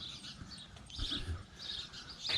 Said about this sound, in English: the sparrows are nesting in that birdhouse